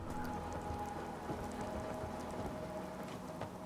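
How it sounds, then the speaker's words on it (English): Rain drums on a roof in the game Fallout 4, heard from indoors as a steady, moderately close patter of drops with faint low rumbling beneath, continuous and without speech. "I heard the rain hitting the roof from the inside"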